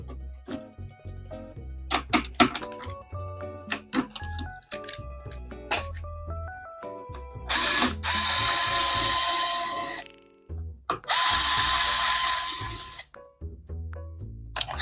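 An electric screwdriver drives screws while a PC is assembled, with two loud, sustained whirring bursts among many clicks and small clattering parts.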